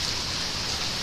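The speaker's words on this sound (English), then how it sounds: "Getting a lot of rain now." Heavy rain from Hurricane Irma in Citrus County pours steadily as a dense, even hiss, loud and close, with no other sounds.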